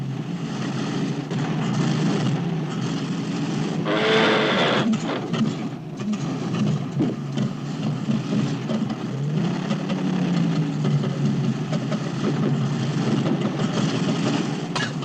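A car engine idles steadily in a low continuous hum for the whole stretch, with a brief louder rattle partway through, heard from inside a closed car in a 1981 film.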